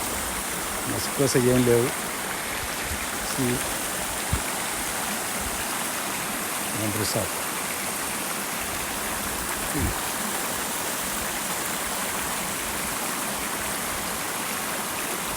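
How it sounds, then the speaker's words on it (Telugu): Natural hill stream water flows steadily near a resort cottage area outside Araku Valley, a constant broadband rush filling the background while a person talks briefly over it. "ఈ వాటర్ అంతా న్యాచురల్గా కొండల నుంచి వస్తున్న నీళ్ళు"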